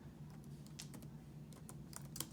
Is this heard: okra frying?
no